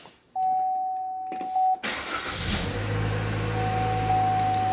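2016 Chevy Trax remote-started: quiet beeps and clicks, then the engine cranks and catches into a steady idle, with a tone sounding again near the end.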